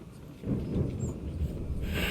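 A thunderstorm at sea in Assassin's Creed 3 rumbles with deep, rolling thunder over a rushing wash of rain and wind, loud and close, building toward a hissing surge at the end.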